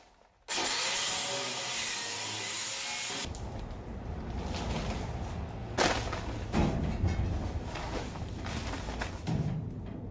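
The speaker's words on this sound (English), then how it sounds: "Working on your back with the grinder overhead is really tiring." An angle grinder strips rust overhead from the underside of a 1949 Spartan Manor trailer chassis, a loud, continuous metal-grinding roar that kicks in abruptly and holds steady, with its pitch and pressure shifting in a few surges.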